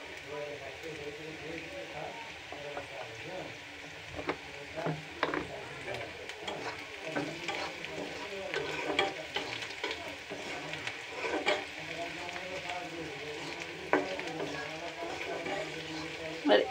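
Onion and water spinach stir-frying in a pan, with a soft sizzle and repeated scraping and clattering of a spatula. Talking runs over most of it.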